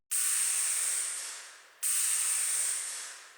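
Two bursts of Logic's Noise Deep Tech percussion sound, each a bright, hissing wash of noise that starts sharply and decays slowly, spaced evenly about two seconds apart with no voices.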